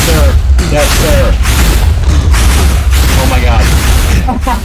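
Loud, dense explosion rumble from the video game Minecraft, during a fight with the Wither, with repeated booming bursts and a heavy low roar throughout, while a person talks excitedly over it.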